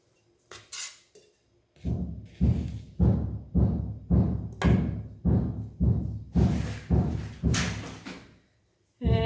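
Roof banging in a repeated series of about a dozen loud, evenly spaced thumps, each with a short ringing decay, sounding close and continuing steadily for several seconds.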